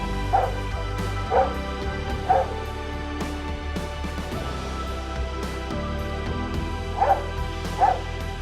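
A guide dog gives about five short barks and yips, in two clusters with a pause between them, heard over a steady low background drone.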